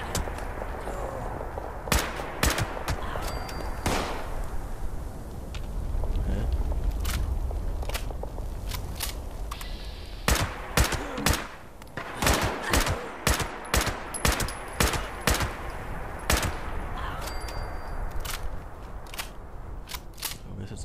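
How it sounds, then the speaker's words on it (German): Gunfire in Fallout 76 at a train station, with sharp shots crackling in irregular bursts from moderately close, some rapid runs of shots, and brief speech in between. "aber habe ich so viel Schüsse gehört"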